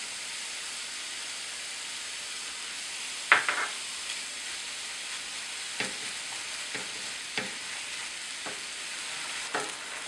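Ginger sizzling and frying in a hot pan, a steady close hiss broken by several sharp clacks of stirring against the pan.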